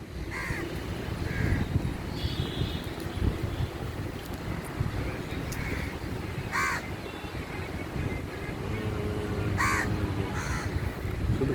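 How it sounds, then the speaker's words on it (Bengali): Crows caw repeatedly under trees on the Kolkata Maidan in spring, harsh calls breaking out in short bursts at moderate distance over a steady wash of wind. "শুধু কাকই ডাকছে,"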